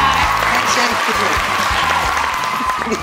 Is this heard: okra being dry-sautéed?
no